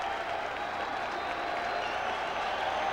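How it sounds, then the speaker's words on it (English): A packed 1995 baseball crowd at a Cubs home game against the Expos claps and cheers in a steady, dense roar that holds throughout at constant loudness, with a broadcast announcer's voice partly mixed underneath. "The crowd alive on its feet."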